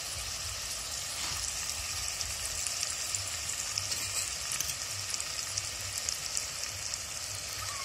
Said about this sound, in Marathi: आता यात आपण मसाले आणि कोलंबी टाकून ग्रेव्ही करून घेऊ।